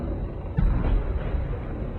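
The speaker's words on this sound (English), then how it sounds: "That thud is the sound of the passenger's head hitting the driver." In a slow-motion crash, an unbelted backseat passenger's head hits the driver with a single dull, low thud over a rumbling background.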